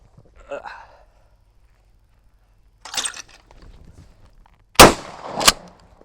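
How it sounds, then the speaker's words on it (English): A shotgun fires at a flying clay target outdoors: one sharp, loud report followed quickly by a second burst, with fainter thumps and handling noise earlier in the clip. "So this will be the last flying shot we take anyway."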